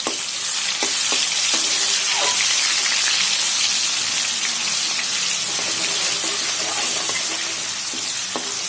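Ginger garlic paste fries in hot oil with a loud, steady sizzle and crackle, punctuated by occasional soft clinks of stirring.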